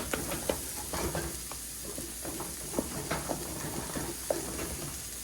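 Mashed potato pierogi filling gets folded with melting cheese in a pan over a flame, a soft sizzle beneath repeated close, sticky clicks and scrapes of the spoon in an uneven rhythm.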